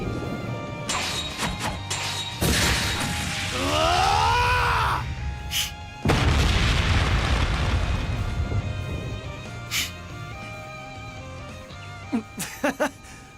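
Heavy booming crashes from the Ungula barrage in the video game Trails Beyond the Horizon, with several loud impacts over layered game music and effects, plus a rising swooping tone in the middle.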